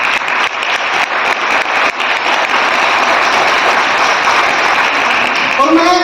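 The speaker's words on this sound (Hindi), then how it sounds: "मैं चाहूंगा उनके लिए एक जोरदार ताली बजाएं।" A large audience at a company's second anniversary event breaks into loud, sustained applause, a dense continuous wash of clapping that stays strong throughout, with a few voices rising near the end.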